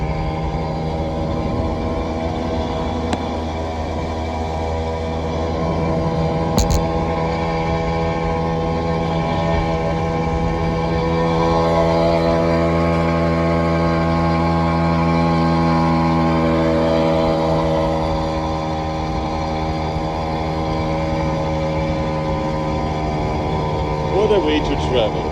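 Steady drone of a Herkules Optima 50 moped engine idling and running on a high mountain road at about 1700 metres, a constant buzzing hum heard close up, with someone talking over it throughout.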